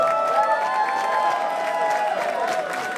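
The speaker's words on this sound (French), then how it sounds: "On les remercie encore une fois de nous prêter main forte" An audience at a drag competition finale claps and cheers for a makeup sponsor, a steady mass of applause with whoops and shouts rising above it, fairly distant and reverberant.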